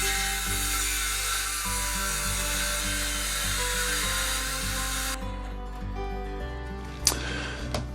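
A power saw cuts plywood along a guide while a bathroom vanity workbench is built: a loud, steady whirring cut runs for about five seconds, then the tone drops as the blade winds down, with a brief clatter near the end.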